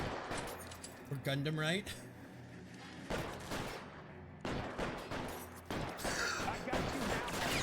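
Video-game gunfire crackles in bursts through a shootout, loud and repeated, mixed under a man's taunting speech and other voices.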